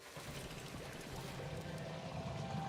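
A robot refills its water tank in the video game Beyond a Steel Sky, giving a faint, steady rushing pour like water flowing into a container.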